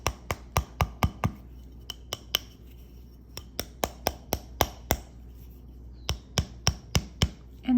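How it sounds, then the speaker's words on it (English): A rubber mallet taps a wire ring on a mandrel in quick, sharp, close strikes, with short bursts of clustered taps separated by brief pauses, alone without talk. "we will use a rubber mallet and just nicely"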